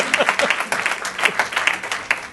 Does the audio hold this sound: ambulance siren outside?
no